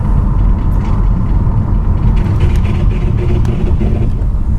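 A Nissan Rogue with bad brakes, driven around the block, heard as a loud, continuous road rumble and engine drone with faint scraping and squealing mixed in.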